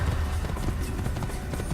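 A horse gallops in the Assassin's Creed video game, with dense, continuous, loud hoof thuds over steady background noise.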